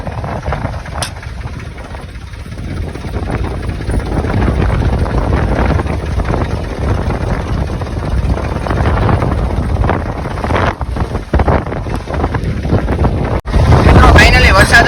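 Strong, gusting wind ahead of a heavy rainstorm on farmland, roaring and buffeting the microphone almost continuously, with loud bursts near the end.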